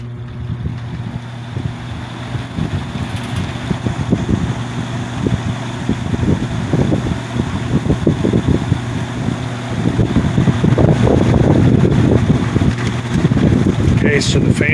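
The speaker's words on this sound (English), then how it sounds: "I'll show the fan running now." A 1960s Lakewood X22 two-speed box fan runs on high while out of balance. A steady, loud low hum and airy whoosh build gradually, with rattling pulses throughout.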